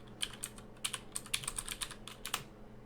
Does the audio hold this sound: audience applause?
no